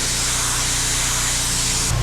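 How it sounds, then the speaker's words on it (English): A steam cleaner sprays steam onto windows as a steady, loud, broadband hiss that runs without pause and cuts off near the end. "If we hit these windows with steam, it shouldn't streak then."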